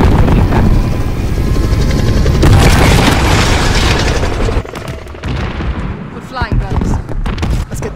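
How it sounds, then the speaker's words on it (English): In the Call of Duty Modern Warfare campaign, a helicopter drones loudly beneath heavy booming explosions and gunfire. The din thins out after a few seconds into scattered shots and rumbles. "Oh, they're shooting us."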